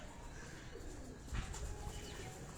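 Caged pigeons at an old farmstead coo softly in a faint, continuous murmur, with a brief flutter or bump near the middle.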